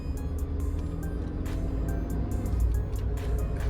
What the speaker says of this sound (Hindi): ये देखो आवाज कितनी आ रही है इंजन में से